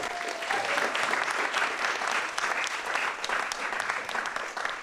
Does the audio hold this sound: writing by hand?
no